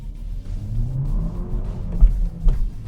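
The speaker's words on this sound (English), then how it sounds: "It's a fizzy little engine as well." A 2017 Hyundai Elantra Sport's engine revs up in a low, rumbling climb heard from inside the car, with a couple of brief knocks or thumps near the end.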